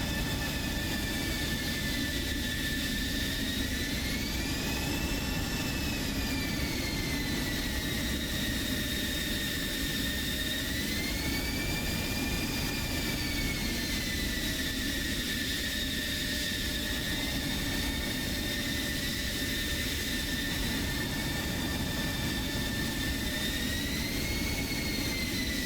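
A jet fighter taxis and lines up on the runway in a flight simulator game, a steady, loud engine whine with a sustained high tone that slowly wavers in pitch, continuous throughout with no voices.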